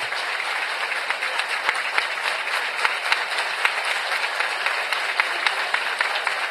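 A stadium crowd at a Vardar versus Malmö football match gives sustained, dense applause for a player leaving the pitch, a steady wash of clapping from far and wide.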